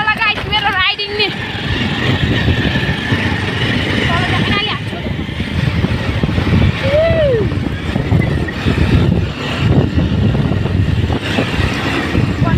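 A motorbike being ridden, its engine giving a steady, fairly loud rumble throughout, with voices talking over it.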